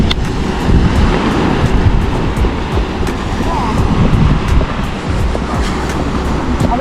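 Surf rolling onto Leeward Beach makes a steady, loud wash of broadband roar that never breaks into distinct waves and runs unbroken throughout, with wind-like hiss layered on top.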